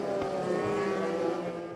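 Euroformula race cars run slowly behind the safety car at Jerez, a steady droning engine hum with sustained tonal whine, fairly close and even in level throughout.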